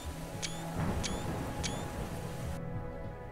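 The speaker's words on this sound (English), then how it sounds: "maybe we'll go find that that storm I can hear" Steady rain washes over the scene in the Universim strategy game, with a low rumble of thunder underneath and a few faint chirps, fairly even and continuous.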